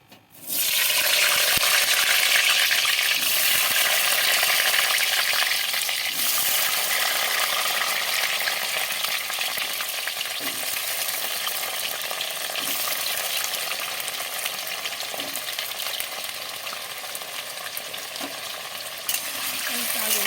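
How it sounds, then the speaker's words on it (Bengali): Cut, washed potatoes frying in hot oil for a lentil-fritter meal, a steady dense sizzle running throughout with occasional stirring clinks, close and loud, no talk. "এবার আমাদের এই আলুগুলো ভেজে নিচ্ছে"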